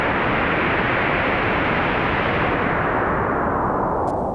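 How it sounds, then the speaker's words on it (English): A continuous synthetic wind whoosh made in Ableton, broad and hissing, holding steady at a strong level throughout with no talking. "Here's the wind maker. Nice and easy and sounds really well."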